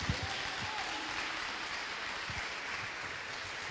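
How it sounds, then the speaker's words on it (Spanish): A church congregation claps together in a soft, sustained round of applause, steady and somewhat distant, with no speech over it. "Puede darle un aplauso a ese Dios maravilloso"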